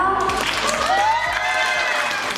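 An orientation audience claps to welcome the club president, a brisk burst of applause mixed with voices or tonal sound over it.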